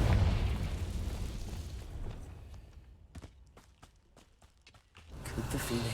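A Confringo spell blast in the Hogwarts Legacy video game bursts loud and broad, then thins into a run of sharp crackling pops before another heavy rumbling surge rises at the end.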